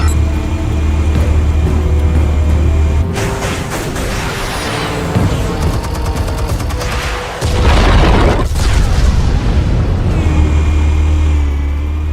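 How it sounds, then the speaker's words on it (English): Explosives detonate in the Batman Telltale Series video game, with loud booming blasts and rumbling that are followed by crackling debris and a roaring engine-like swell, heavy and close, with no speech. "Explosives armed. Fire when ready."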